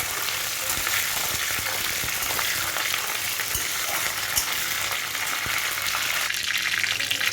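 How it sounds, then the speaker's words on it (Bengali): Curry leaves fry in hot oil for a spicy semolina dish, a loud, steady, close sizzle that holds constant with faint stirring scrapes underneath. "কারি পাতাটাকেও একটু ভেজে নেব।"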